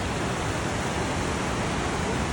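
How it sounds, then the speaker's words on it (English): Europe's biggest waterfall rushes in a loud, unbroken broadband roar, steady and close with no voices. "That's the waterfall."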